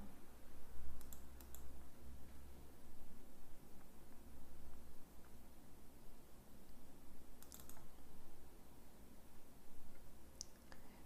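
Numbers being typed into a spreadsheet on a computer keyboard, soft irregular key clicks over a steady background hiss, with a couple of sharper clacks standing out.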